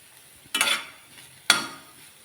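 Ivy gourd (tindora) curry being stirred in a frying pan, two distinct scraping stir strokes with a brief sizzle after each, fairly close and quiet, no voices.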